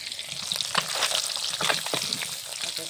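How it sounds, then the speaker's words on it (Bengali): Fish frying in mustard oil for a Bengali fish curry, a loud, steady close sizzle and crackle with brief spatters throughout, no voices. "মাছগুলো সব ভেজে তুলে নিলাম"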